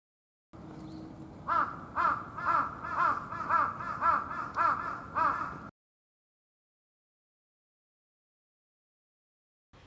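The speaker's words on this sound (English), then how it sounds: "you have seen a jungle crow calling" A jungle crow gives a run of about eight harsh, rhythmic caws in quick succession, loud and close, then falls abruptly silent.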